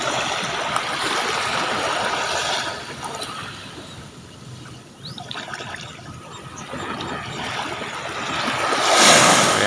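Ocean waves wash steadily onto a clean beach, a continuous rushing surf that eases in the middle and swells into a louder breaking wave at the end, with no voices.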